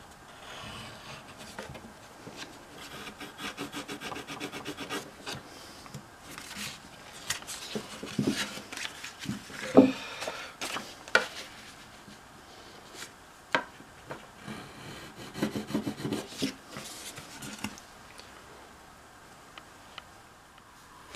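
Close, scratchy cutting and rubbing noises with irregular taps and scrapes, continuing in uneven bursts throughout, as a thin wooden pickguard for an electric archtop guitar is cut out and worked on a belt sander.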